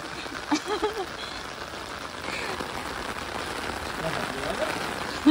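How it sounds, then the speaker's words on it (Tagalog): Heavy rain pouring down during a flood in the UAE, a constant hiss of drops hitting the ground, with a few brief voices and footsteps heard near the start over the steady downpour. "Ang lakas na ng ulan"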